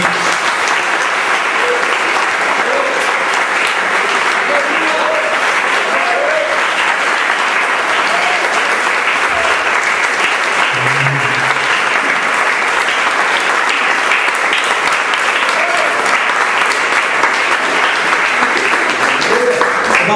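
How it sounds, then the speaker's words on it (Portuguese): A church congregation applauds steadily through a Sunday worship service, the dense clapping filling the room at a constant level, with a brief voice surfacing partway through. "Vamos aplaudir o nosso Deus."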